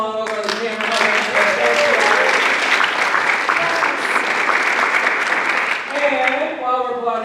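A school drama workshop audience breaks into sustained, fairly loud clapping. A voice is heard briefly before it starts and returns as the applause tapers off near the end.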